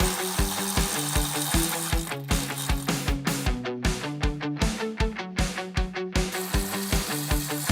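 A power ratchet or impact tool drives out 10mm bolts along the top of the grille on a 2020+ Chevrolet Silverado HD truck, making loud rapid rhythmic bursts that repeat in quick pulses.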